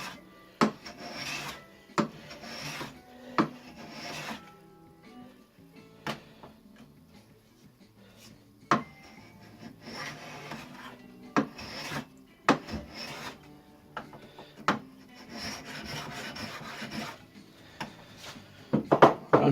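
Light rasping passes shape an antique wooden hand plane, a dozen or so short, dry scraping strokes in an irregular rhythm with sharp wooden clicks between them, close and fairly quiet.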